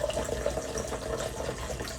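Mango juice and diet cranberry splash steadily into a big glass, a continuous close pouring gush lasting about two seconds with no talk.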